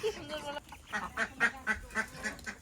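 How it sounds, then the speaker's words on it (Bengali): Small ducks quacking in a quick series of short, bright calls, fairly close, with a faint murmur of voices early on. "দেখুন হাঁসের বাচ্চা সুইমিং পুল বানিয়েছে"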